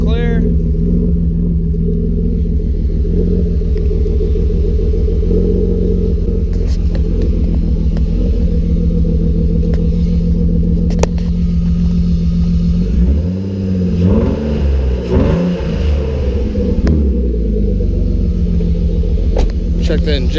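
A BMW engine idles steadily just after being started, a close, loud rumble that briefly rises and wavers in a light rev partway through before settling back to an even idle.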